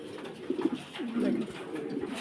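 Pigeons cooing at a pigeon farm in Bangladesh, soft low rolling coos repeating close by against a background murmur.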